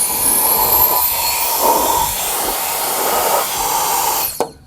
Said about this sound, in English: it's like a fan and it pretty much blows air. Very good to clean all these holes